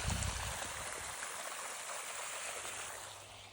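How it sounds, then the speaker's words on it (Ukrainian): Drainage pump drawing water from a shallow cased well gives a steady hissing, trickling flow of water, constant and fairly faint, with no voices. "Оце дренажник зараз."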